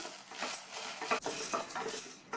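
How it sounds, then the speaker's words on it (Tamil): Cowpeas (thattapayaru) dry-roast in a pan, stirred so they rattle and scrape with soft, irregular metallic clinks and patter. The sound is close and quiet, with no talking. "இந்த தட்டைப்பயிரை நல்லா வாசனை வர வரையும் வறுத்துக்கணும்."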